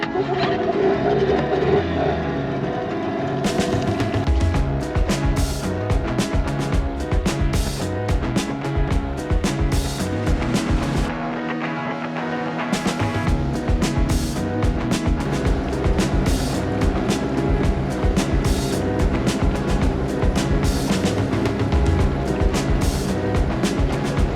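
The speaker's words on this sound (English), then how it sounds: "Get that new engine running." A sailboat's new engine drones steadily throughout with a dense, rumbling mid-range tone and frequent sharp clatters on top, dipping briefly partway through before picking back up.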